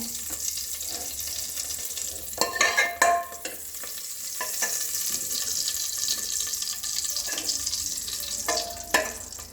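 Cumin seeds frying in hot ghee for a gourd curry, a continuous crackling sizzle broken by a few louder stirring scrapes and clinks, with no talking.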